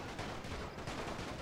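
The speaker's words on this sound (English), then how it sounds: "Most likely we're shooting each other here." Dense battle gunfire in a WWI video game set at Gallipoli against Ottoman forces, a continuous, loud crackle of rifle shots with no pauses, packed across the whole short stretch.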